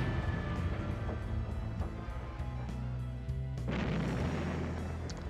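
Bombard artillery fires in the Epic 40k strategy game, giving a few dull thuds and a heavier burst near the middle over a steady low rumble.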